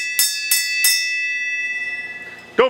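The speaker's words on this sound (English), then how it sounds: "Well, ring the bell then." A bell in a garage workshop is struck three times in quick succession. Each bright metallic ring stays loud and close, and the overlapping tones ring on and slowly fade. A sharp clunk follows at the end.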